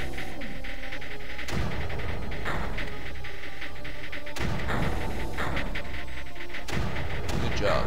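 Mortar fire in the game Creeper World: a steady series of deep booming launches that repeat every second or so over a constant droning hum of game sound, with a voice talking now and then.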